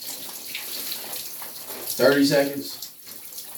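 A cold shower running under a short spoken phrase, a steady hiss of spraying water with a brief louder splash in the middle.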